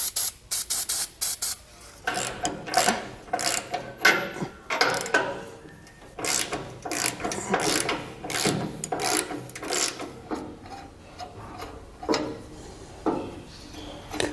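Penetrating oil sprayed onto rusty trailer axle hardware and leaf spring U-bolts in close, hissing bursts, some long and some short, with scraping and handling noises between them.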